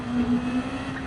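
Race car engine in Gran Turismo 7, a World Touring Car 900 racing game, holding a steady, moderately loud drone at a fairly constant pitch for about a second with no talking.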